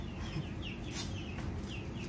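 Chickens on a family home in Vietnam, fed cut lettuce, cluck steadily and fairly close over a dense, continuous background hum.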